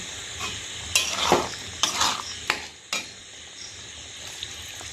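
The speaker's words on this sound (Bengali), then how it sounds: "এবার আমি অল্প করে জল দিয়ে দেবো" Water goes into a frying chana masala in a pan, setting off sharp bursts of sizzling. A spoon stirs and scrapes close by as the hiss flares and then settles to a softer simmer.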